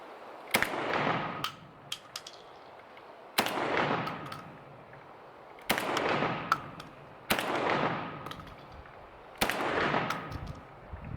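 Five loud shotgun blasts from a JTS M12 AK-style 12 gauge at an outdoor range, evenly spaced about two seconds apart, each a sharp crack with a decaying echo.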